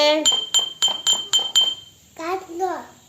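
Six crisp glass clinks in a steady rhythm, each ringing briefly, followed by someone speaking.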